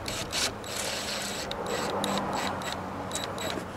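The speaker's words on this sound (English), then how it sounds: "So let's go ahead and get it lined up and bolt it up." A socket wrench ratchets on the bolts of a Honda Accord window regulator: bursts of rapid mechanical clicking, close and fairly quiet, repeat with short pauses, no one speaking.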